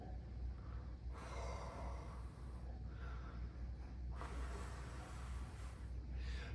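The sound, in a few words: breathing out incorrectly for saxophone embouchure demonstration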